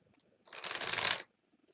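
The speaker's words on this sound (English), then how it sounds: "Give it one good shuffle and then see where we sit." A deck of tarot cards gets one quick riffle shuffle, a brief close crackle lasting under a second in an otherwise quiet room.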